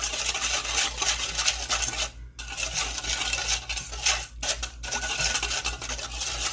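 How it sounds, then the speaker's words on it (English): Spoon stirring a beef jerky marinade in a bowl, a steady scraping and clinking rhythm close up, with two brief pauses between bursts of mixing. "We're going to give this a little mix up."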